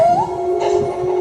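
A dog howls in one long, loud, close, sustained wavering tone that rises at the start and then holds steady, alone without talk.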